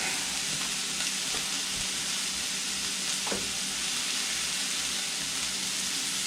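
Ginger sizzles in a hot pan at the start of a chicken curry, a steady close hiss of frying with a couple of faint stirring clicks.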